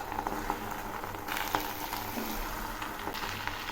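Jute leaves sizzling and frying in hot oil in a pan, a soft continuous crackle and hiss at low volume with occasional faint pops and stirring sounds.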